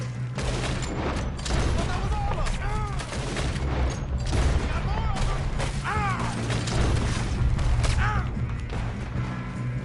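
Rapid gunfire in Red Dead Redemption 2, dense bursts of shots with mechanical clicks and reloading, steady and loud throughout, with faint voices underneath.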